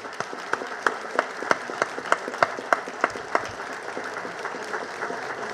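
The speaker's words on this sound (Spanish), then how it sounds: "Y yo quiero que le rindamos un aplauso al pueblo de La Palma por esa vocación por la paz." Crowd at a presidential speech in El Salvador applauds the people of La Palma, with scattered, fairly sparse clapping and a few louder individual claps standing out over a moderate audience wash.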